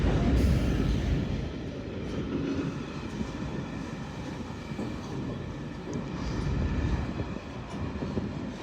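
A train rumbles steadily past at York on the East Coast Main Line with continuous low roaring and clattering from the rails, loud throughout with slight swells in intensity.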